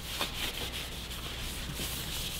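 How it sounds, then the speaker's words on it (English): A saturated rag wiping down a carbon slip-on exhaust on a Kawasaki Ninja 400, a few quick close rubbing strokes in a short burst. "So what I'll do is give it a good wipe down."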